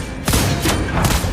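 Gunshots from a hero in the mobile game Mobile Legends, played on a Xiaomi Redmi 10: loud repeated blasts at a fast rhythm, close and dense, with no talk over them.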